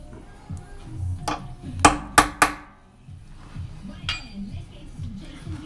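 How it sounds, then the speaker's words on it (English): A hammer strikes a centre punch on metal during a DRO install on a Bridgeport mill, giving a few sharp ringing metallic taps close up, including a quick triple burst, in a quiet workshop. "Do a better centre punch with this one here."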